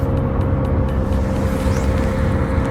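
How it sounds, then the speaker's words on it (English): A car's engine and road noise heard from inside the moving vehicle form a steady, loud, low rumble that fills the whole stretch with no voices. "my car is getting increasingly louder, so hopefully you can still hear me"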